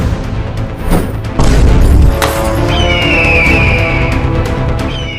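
A cannon fires in a comedy short film about a bandit: a loud boom and crash, followed by a sustained rumbling tail with a rising whistle-like tone.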